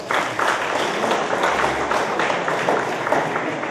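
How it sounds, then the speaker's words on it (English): Sustained applause from a gala crowd at a school fundraiser ball, honoring the kitchen volunteers and chef's staff; steady dense clapping at a constant level for several seconds, with no voice over it. "and a nice round of applause for them."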